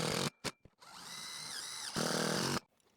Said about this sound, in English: I'm gonna go right through the putty, and that's gonna drive the putty into the hole with the screw to seal it up